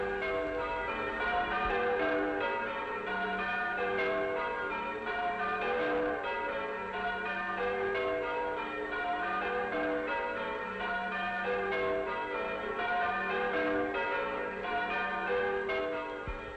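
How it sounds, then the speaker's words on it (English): Church bells rung by a team of bell ringers at weekly evening practice, a continuous dense peal of overlapping ringing tones sustained throughout with no talking. "She wanted to learn how to ring church bells, and now at practice every Wednesday evening, she's in the team of regular bell ringers."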